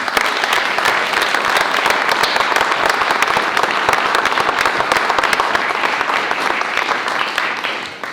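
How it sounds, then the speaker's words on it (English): An audience at a poet laureate announcement bursts into loud, dense applause, a close and steady roar of many hands clapping that holds for several seconds before easing slightly at the end. "Please give them a big round of applause."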